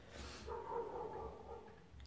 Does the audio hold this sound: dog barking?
yes